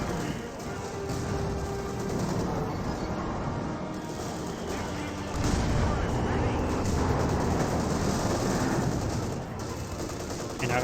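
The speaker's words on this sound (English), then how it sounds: "given the heavy mortar barrage" Heavy mortar barrage in Company of Heroes 2, a dense, continuous roar of distant booms and gunfire with a thicker swell midway, heard under a commentator's voice.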